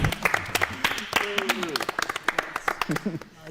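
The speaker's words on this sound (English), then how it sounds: "We're clapping for the rich guy?" A voice talks over scattered, uneven hand claps that keep going throughout.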